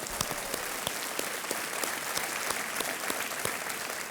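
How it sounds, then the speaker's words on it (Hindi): A studio audience at a televised quiz show applauds steadily, with dense, even clapping that holds at a moderate level throughout with no voices over it. "तालियां"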